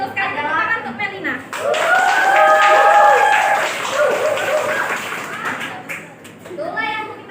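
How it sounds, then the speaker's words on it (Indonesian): A classroom of children claps briefly while voices and children's chatter run over and around the clapping, with speech heard clearly at the start and end. "Tepuk tangan untuk Melina."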